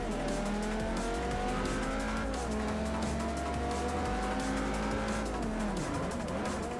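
Racing car in the Forza Motorsport 4 video game with a small five-cylinder engine, revving loudly and continuously with shifting engine pitch and tire squeal throughout.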